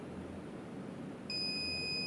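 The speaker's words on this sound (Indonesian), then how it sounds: "PSU-nya setelah disambungkan ke saklar atau listrik akan hidup seperti ini dan nanti akan bunyi beep." A steady electronic beep from a computer power supply unit after connecting to mains, with a high, pure tone starting partway through and holding continuously to the end, over a low background hum.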